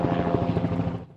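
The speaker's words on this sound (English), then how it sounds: "Choppers armed with thermal imaging equipment were launched" Helicopter flying overhead during a manhunt, a loud rapid rotor thump and engine drone that stays close for about a second, then cuts off.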